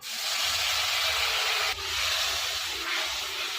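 Water poured into hot spice masala of coriander, cumin, turmeric and salt in a pan, a loud continuous steaming hiss and sizzle that dips briefly midway and then surges again.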